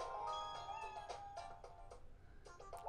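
A cartoon cat meows repeatedly in the video game Wii Party U, several short, bright mews in quick succession over a soft steady background, with no talking.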